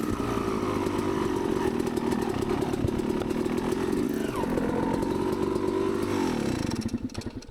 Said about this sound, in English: his bike wasn't idling correctly, it was idling a bit low